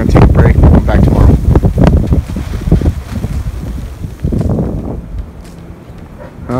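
Strong wind gusting outdoors on a winter homestead, roaring and buffeting the microphone in heavy waves that ease off briefly before picking up again, with a person talking through it.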